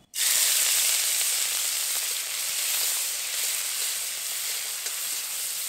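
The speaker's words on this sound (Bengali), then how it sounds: "চিংড়িগুলো ভেজে নেব। বেছে রাখা চিংড়িগুলো দিয়ে দেব।" Small peeled shrimp frying in a pan of oil, a loud, steady close sizzle that starts abruptly and holds on without pause, with no talking.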